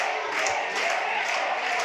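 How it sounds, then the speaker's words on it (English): A home-side crowd at a high school football game roars and cheers from a distance, a steady broad wash of voices with brief swells. "you can hear the crowd starting to get into this ball game here on the home side"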